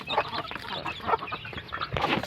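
Native chickens clucking in a backyard flock, several nearby birds giving short overlapping clucks and calls in irregular bursts.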